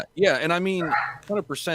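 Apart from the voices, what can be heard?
dogs barking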